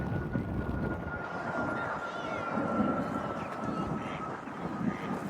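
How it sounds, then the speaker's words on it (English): A banking aeroplane drones faintly over a moor near Knutsford, a steady distant engine hum mixed with gusty wind noise. "And over the moor we've got a banking aeroplane"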